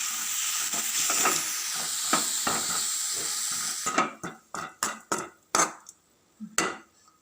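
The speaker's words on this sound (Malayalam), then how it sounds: "നമുക്ക് ഇതൊന്ന് ഇളക്കി കൊടുക്കാം." Drumstick leaf thoran stirred in a pan: a steady sizzling scrape for several seconds, then a run of sharp spoon knocks and scrapes against the pan, close and fairly loud, with no talk.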